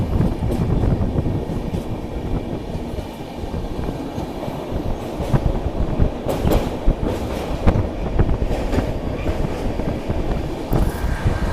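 The Bhubaneswar Jan Shatabdi express runs on the rails, heard from inside as a loud, steady rumble with rhythmic clickety-clack wheel beats and occasional metallic squeals, and no voices.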